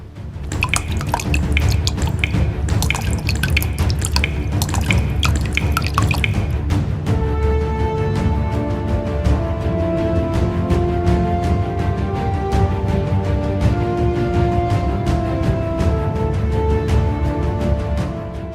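Steady water dripping and trickling in a cave with a rushing wash at first, then a dense patter of drops echoing close by off the rock formations, continuous throughout.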